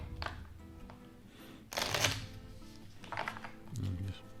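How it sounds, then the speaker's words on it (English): Playing cards are shuffled in a few quick riffles and bursts, close to the microphone, with short pauses between handfuls. "So you would just shuffle these up."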